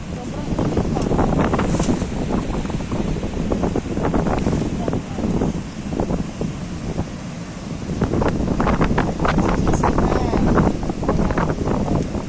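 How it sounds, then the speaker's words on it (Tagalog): Strong seaside wind buffets the microphone in a continuous loud roar, gusting steadily throughout with a faint wash of water beneath and occasional voices in the background. "Lakas ng hangin."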